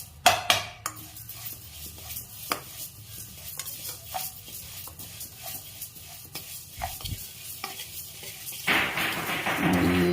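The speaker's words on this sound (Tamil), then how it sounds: "மீடியம் ஃப்ளேம்லேயே நல்லா பொன்னிறம் வர வரைக்கும் நல்லா வறுத்துக்கோங்க" Ingredients roasting in a pan over a medium flame for Tamil venpongal, heard as repeated scraping and stirring clatters of a utensil against metal over a soft, steady sizzle, growing louder and busier toward the end.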